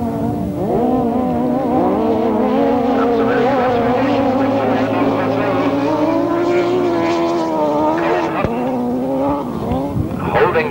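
Sidecar outfits racing at a 1994 British Masters grasstrack qualifier, their engines howling and rising and falling in pitch as they pass, loud and continuous with several machines overlapping, a commentator talking over them.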